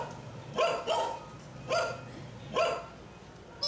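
A group of dogs barks outside an office at a logistics company, three or four separated bursts of sharp barks at moderate distance, with no talk.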